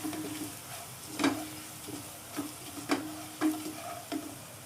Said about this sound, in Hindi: अब मैं तमाम स्पाइसेस इसमें शामिल कर दूंगी, ड्राई स्पाइसेस, और हल्का सा हम इसे भूनेंगे।